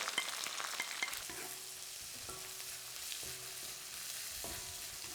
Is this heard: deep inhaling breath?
no